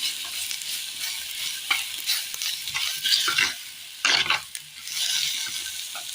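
A spoon stirs a penne mixture in a hot pan, with a continuous sizzle and bursts of scraping and shuffling as the pasta is turned over, loud and close.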